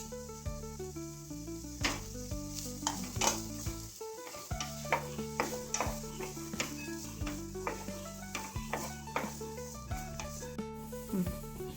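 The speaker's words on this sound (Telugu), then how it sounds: "బీన్స్ లాంగ్ టైం తీసుకుంటాయి కాబట్టి నేను ఫస్ట్ బీన్స్ని ఇందులో వేస్తున్నాను. ఇది లైట్గా ఫ్రై అయిన తర్వాత" Beans fry gently in a pot, giving a soft sizzle with utensil scrapes and light clinks of stirring, partly masked by tonal background music.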